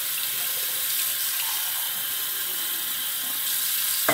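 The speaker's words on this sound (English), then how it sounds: "I'm gonna go ahead and fill up my cup with warm water" Warm water runs from a bathroom tap into a cup in a steady, close hiss and splash that lasts the whole stretch before a small knock at the end, with no talk.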